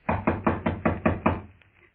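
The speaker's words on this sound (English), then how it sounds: "Shall I knock now?" Someone knocks on a house door in six firm, evenly spaced raps, close and solid, followed by a brief quiet tail.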